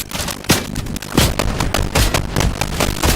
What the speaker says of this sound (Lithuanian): Iš kur čia šaudo?